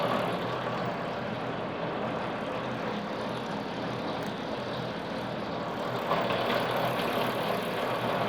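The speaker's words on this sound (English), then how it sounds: "at a very low idle, low RPM, you're going to turn on your PTO to get that spinning" A snow tractor engine idles at low RPM with its PTO engaged and spinning, a steady, loud mechanical drone that holds constant throughout with no speech over it.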